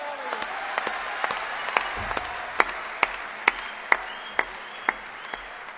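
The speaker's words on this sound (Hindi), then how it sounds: "एक बार जोरदार तालियां बजा दीजिए।" Audience applause after a recited Hindi devotional song at a Ram-themed poetry event, a steady wash of clapping with sharp rhythmic accents punctuating it at about half-second intervals, moderately loud and sustained.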